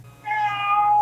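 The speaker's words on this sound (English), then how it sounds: "Noise gone, except the cat who's now meowing at me." A single drawn-out cat meow, close and clear, rising in and holding for about a second.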